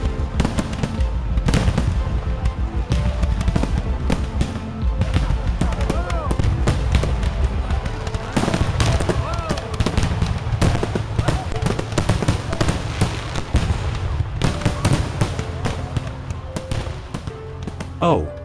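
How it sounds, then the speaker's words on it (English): Fireworks going off at ground level during a grand finale after a mortar misfires, a dense rapid barrage of loud crackling bangs and pops with crowd voices beneath, continuous and close. "An errant mortar exploded, causing the other fireworks to go off at ground level."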